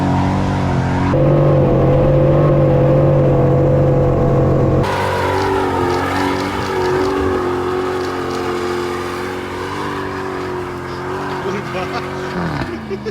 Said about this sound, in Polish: no i ten dźwięk V8.